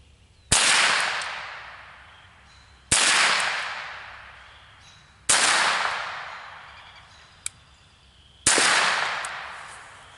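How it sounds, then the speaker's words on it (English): A Marlin Papoose .22 takedown rifle fired outdoors at a can downrange, four sharp single shots spaced a couple of seconds apart, each with a fading echo tail. "so we're going to fire a few rounds off."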